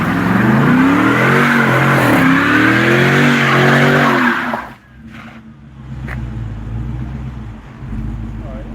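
A red Daytona with a 5.7 engine revs hard through second gear, a loud, close rising engine roar with tire squeal that cuts off abruptly into a lower idle rumble and light road noise.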